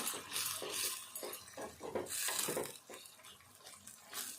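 A spoon stirs masala spice powder into a brinjal curry in a pan, giving faint scraping and clinking strokes that come in irregular bursts with no talk.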